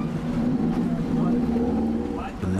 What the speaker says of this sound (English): At the dive site, the captain revs the boat's engines.